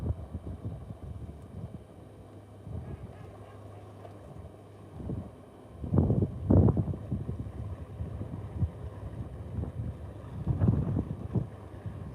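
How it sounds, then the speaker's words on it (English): A large boat's low engine rumble passes by outdoors on the River Bure at Horning, Norfolk Broads, in rain, with wind buffeting the microphone and swelling noise bursts as it goes past. "Can hear a big old boat coming by the sound of things."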